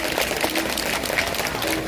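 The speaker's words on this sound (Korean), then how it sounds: "사부님 여러분 모두 큰 박수로 선전을 기원해 주시기 바랍니다" A crowd at the Buddha's Birthday ceremony at Jogyesa temple claps in a brief, dense and fairly loud wash of applause that continues steadily with no pauses.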